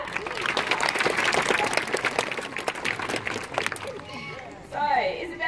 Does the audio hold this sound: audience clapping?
yes